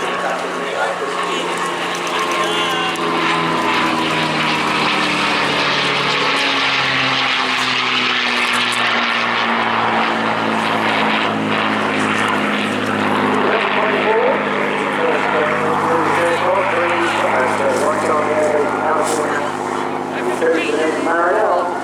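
A North American P-51D Mustang propeller fighter flies at a seaside airshow, its piston engine droning loud and continuous for the whole stretch, with pitch slowly sweeping as it passes, while a commentator talks over the public address.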